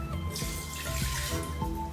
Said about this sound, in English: You're going to take about a cup of water